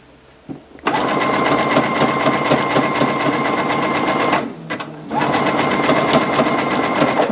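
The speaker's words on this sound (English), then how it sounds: "you don't need to see me sewing heaps and heaps of stuff" A domestic sewing machine stitches decorative fringing in two steady runs of fast, even motor whir and needle chatter, briefly pausing midway before starting up again, close and loud with no talking.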